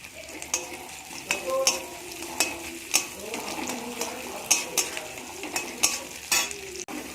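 Chopped onion stirred and frying in oil in a home kitchen pan, a steady soft sizzle with repeated scraping strokes of a spatula against the pan; no talking.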